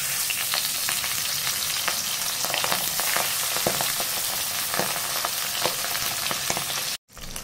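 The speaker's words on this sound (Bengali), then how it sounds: "তেলটা গরম হয়ে গেছে, আমি মাছগুলোকে দিয়ে দিলাম।" Pabda fish sizzling loudly in hot mustard oil in a pan, a steady dense crackle with scattered pops and spits, close up and uninterrupted until a brief dropout just before the end.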